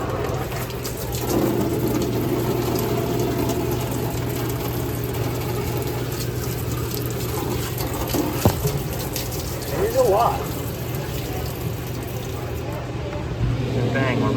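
Steady rushing gush of water pouring out of a Hoshizaki ice machine's filter line under a constant mechanical hum, with a couple of brief squeaks near the end.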